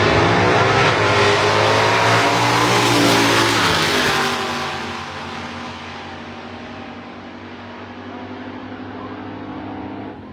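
Mopar drag race car launching hard off the starting line, a loud roaring engine blast that sweeps in pitch as it pulls away, then fades to a steadier, more distant drone.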